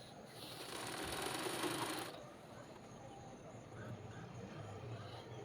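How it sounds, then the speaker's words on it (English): A sewing machine stitches an Ankara fabric sleeve for a ball gown, with a fast steady whirring run that stops abruptly partway through, leaving faint low mechanical hum and room noise. "So I went ahead to sew on this."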